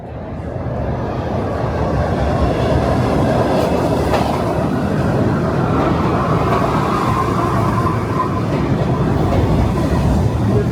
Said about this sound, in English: so let's jump on the train and head that way.